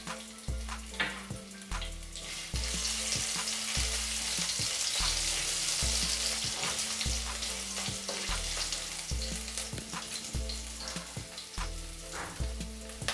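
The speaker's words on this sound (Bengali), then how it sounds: "জিরে অল্প ভেজে নেব।" Cumin seeds and ginger frying in a pan, a dense, loud sizzle running steadily under a regular low rhythmic hum and occasional crackles, with no voices.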